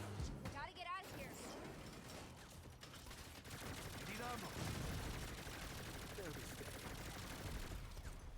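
In Saints Row (2022), enemy gunfire rattles in repeated bursts at an RV amid game noise, with a voice talking over much of it.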